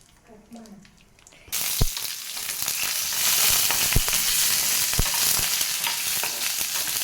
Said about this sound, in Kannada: ತುಪ್ಪವನ್ನು ಹಾಕಿ ಡ್ರೈ ಫ್ರೂಟ್ಸನ್ನು ಹಾಕಿ ತೆಗೆಯೋಣ, ಹುರಿದು ತೆಗೆಯೋಣ.